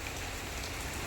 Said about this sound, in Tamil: செம்மையாக மழை பெய்யுது பாருங்கள்.